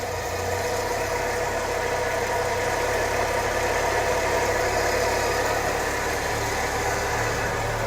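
A 1998 Honda CR-V engine idling roughly with newly installed belts, a steady loud mechanical drone with a faint uneven pulse throughout, no talking.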